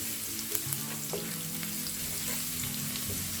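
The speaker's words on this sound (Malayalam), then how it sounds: "ഓയിൽ നന്നായി ചൂടായിട്ടുണ്ട്. അതിലേക്കൊരു 1 ടേബിൾ സ്പൂണ് വെളുത്തുള്ളി പൊടിയായി അരിഞ്ഞത് ഇട്ട് കൊടുക്കുക. എന്നിട്ട് നന്നായി മൂപ്പിച്ചെടുക്കുക." Finely minced garlic, about a tablespoon, fries in well-heated oil for chicken spring rolls, giving a constant close, dense sizzling hiss with a few light stirring scrapes.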